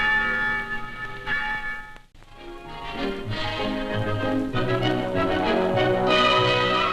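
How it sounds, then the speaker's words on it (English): Church bells ring out in a full, overlapping peal, with a brief pause before the clanging resumes, loud and continuous. "On town meeting day, the church bells bring the people out."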